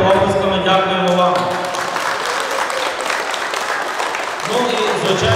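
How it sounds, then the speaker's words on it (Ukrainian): Audience applauding schoolchildren at a Ukrainian school sports event, a dense burst of clapping that swells in the middle and fades, with a voice speaking over the start and end. "Давайте оплесками дякуємо вам."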